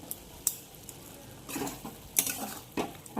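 Banana flower curry with spice paste, green chili, raisins and grated coconut is stirred in a pan, with irregular scrapes and soft clatter of the spoon over a faint sizzle, close and fairly quiet, no talking.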